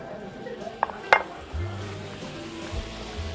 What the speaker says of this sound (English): Now the fun part is browning the butter.